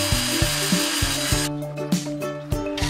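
A marking tool digs and scrapes into rough wood at a center point, giving a series of short rhythmic scratching strokes, close and fairly loud, with no voices.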